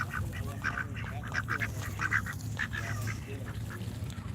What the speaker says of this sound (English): this one duck is now eating off of my foot, which is pretty funny